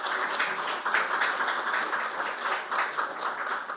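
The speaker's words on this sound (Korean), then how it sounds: "박수로 시작하도록 하겠습니다" Audience clapping at the opening ceremony of a Korean National Assembly regional balanced development forum, a fairly soft, steady patter of many hands heard from a distance, continuous with gentle swells.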